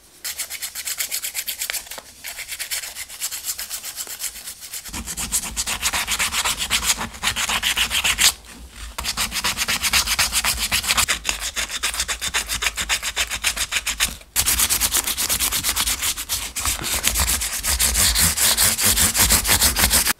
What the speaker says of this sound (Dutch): Dus nou ga ik deze gewoon lekker een beetje opschuren en dan kunnen we hem daarna spuiten.